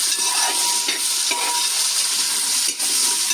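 About three quarters of a kilo of whole, unchopped shallots sauté in oil in a pan for a Kerala-style chicken varattiyathu, giving a loud, dense, continuous sizzle with occasional stirring scrapes close by, with no talk.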